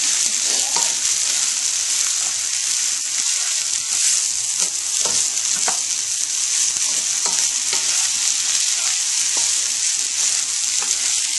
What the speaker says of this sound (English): we're actually kind of frying the rice now